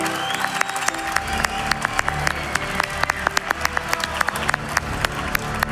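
An esports crowd at a Dota 2 tournament applauds steadily with scattered cheers and whoops rising over the clapping, loud and continuous throughout.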